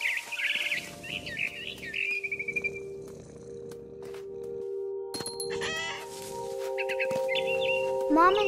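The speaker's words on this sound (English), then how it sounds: "Then I heard chirping outside my window. It was a barn swallow going back to her nest." A barn swallow in What Remains of Edith Finch, bright bursts of rapid chirps and twittering repeated across the clip over sustained tonal game music, with a voice narrating in places.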